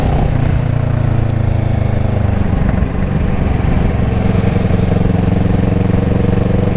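A 2014 Kawasaki ER6-N motorcycle engine drones steadily while being ridden on the road, a loud, close, continuous hum with wind rush and no voices.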